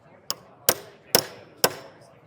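Four sharp, evenly spaced taps of a titanium stiletto hammer's dimpler striking a nail in wood trim, close and loud with short ringing decays.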